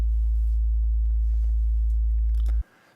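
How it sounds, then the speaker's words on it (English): Steady sub bass sine tone from Logic Pro's test oscillator, a loud, continuous low hum held unchanged for about two and a half seconds before cutting off abruptly. "this is the sub bass frequency that we're going to use"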